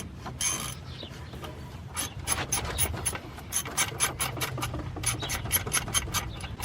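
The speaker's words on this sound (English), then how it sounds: "drive it in with the ratchet" A hand ratchet drives an idler pulley bolt on a 1999-2004 Ford Mustang GT, producing close, rapid rhythmic clicking bursts with brief pauses between strokes.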